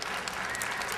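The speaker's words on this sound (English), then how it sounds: "a round of applause for Cassie" An audience at a talk at the Skepticon 3 skeptics conference breaks into applause, a dense, steady patter of clapping that fills the whole short moment at a moderate level.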